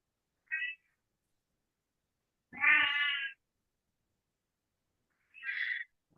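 A cat gives three separate meows, one short and one longer drawn-out cry, each isolated in a quiet room and fairly faint, with no talking.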